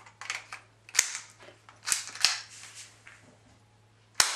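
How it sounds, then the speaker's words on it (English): A powerful airsoft pistol fires at a thick wooden plank, giving four sharp, close cracks spread unevenly over a few seconds, with rustling handling noise and a steady low hum between shots. "I'm gonna show you the world's most powerful airsoft pistol shoot through this wooden plank."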